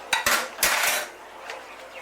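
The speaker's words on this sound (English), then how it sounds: "Alright, so mix in your mustard." Mustard being stirred into a chicken and ham pie filling with a metal spoon against a bowl, giving a few quick, close clinks and scrapes that trail off into softer movement.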